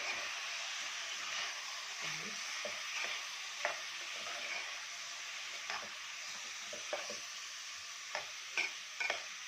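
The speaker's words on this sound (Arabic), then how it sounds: "هننزل عليها البصلايه ونقلب كويس مع بعض" Onion added to browned meat in a pot for an okra and meat dish, stirred while frying: a soft, steady sizzle with scattered light scrapes and taps of a spoon, fairly quiet and without speech.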